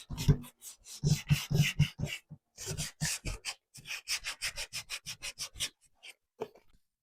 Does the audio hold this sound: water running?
no